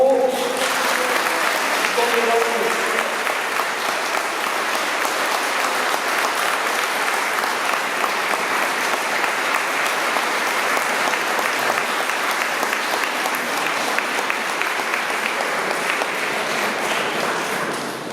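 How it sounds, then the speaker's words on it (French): Sustained applause from a large crowd for 40 flag bearers, steady and loud throughout, with a brief burst of voices at the very start. "Et je vous demande d'applaudir les 40 porte-drapeaux."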